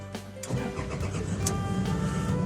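The engine of a Toyota Hiace van, turned with a replacement key, cranks briefly and catches, then settles into a steady idle close by.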